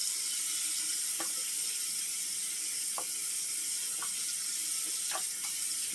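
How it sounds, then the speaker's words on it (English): Fabuloso liquid cleaner glugs into a bathroom sink drain in a steady, hissing wash that runs the whole time, with a few light clicks of the bottle on top. "I went ahead and opened the Fabuloso. We're going to dump some in the sink drain"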